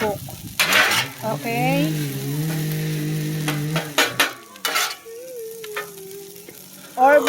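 Hibachi fried rice sizzles and gets stirred in a pan, with scraping and clatter of a utensil, while someone talks and hums over it; the frying hiss stays moderate and steady beneath his voice.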